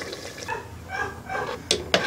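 Bottled water poured into a blender to rinse out ground salsa for pork chicharrón, a faint splashing trickle with a couple of sharper sloshes near the end.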